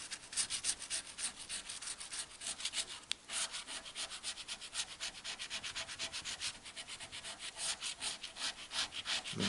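A coin or fingernail scratches the coating off an FDJ lottery scratch card in steady, rapid back-and-forth rasping strokes, close and continuous throughout with no talking.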